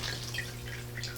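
Water soaking into halved bread for Polish mushroom cutlets, a steady close trickle and splash with soft dripping, continuous and fairly loud throughout.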